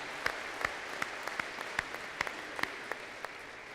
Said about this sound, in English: why don't you say we have a round of applause for the presentations by Archbishop Kurtz and Father Martin